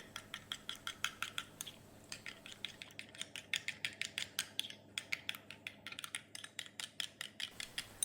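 A spoon beats an egg-white hair pack mixture in a bowl, producing quiet, quick rhythmic clinks and taps that repeat steadily in bursts, alone without any talking.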